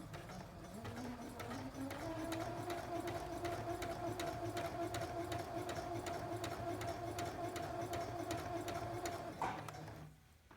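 A sewing machine joins pieces of muslin for a rag doll body, starting up, whirring at a steady pace with regular ticking for several seconds, then stopping near the end.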